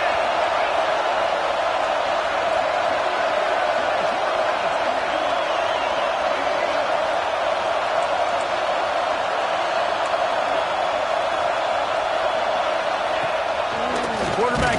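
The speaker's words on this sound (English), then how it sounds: "quiet this crazy, raucous crowd" At a Tennessee vs TCU football game, a raucous stadium crowd keeps up a loud, unbroken roar while a commentator talks over it throughout.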